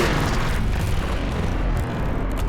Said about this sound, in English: we can't really start the show without a good explosion